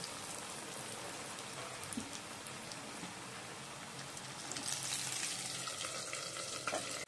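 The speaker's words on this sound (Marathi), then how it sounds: "कॉर्न तेलामध्ये सोडते।" Corn kernels dropped into hot oil for crispy corn sizzle and crackle continuously up close, with sharp spitting pops growing busier toward the end.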